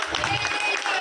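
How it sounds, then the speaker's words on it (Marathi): Guests at a birthday party applaud, a brief patter of clapping from a small crowd, moderately close, with voices talking over it. "त्यांनी टाळ्या वाजवा."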